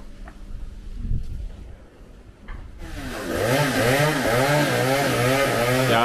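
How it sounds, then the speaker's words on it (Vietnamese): A chainsaw starts up partway through and cuts a large tree branch loudly and close in a cramped spot, its engine whining up and down in repeated revs after quieter rustling. "anh cưa thêm một cái nhánh lớn này nữa như vậy"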